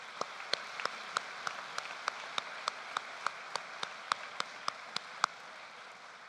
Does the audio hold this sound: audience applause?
yes